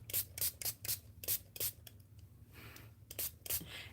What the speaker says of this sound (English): Then you're going to grab your spray water